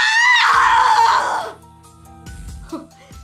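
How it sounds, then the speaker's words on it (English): A woman's loud, shrill scream in the video game Death end re;Quest 2, sustained for about a second and a half before cutting off into quiet game sounds and soft tones. "Oh, now she can scream!"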